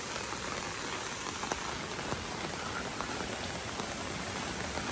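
Rain falls steadily on surfaces in a Gulmi hill village in Nepal, a dense even patter with scattered louder drops, heard close and without voices.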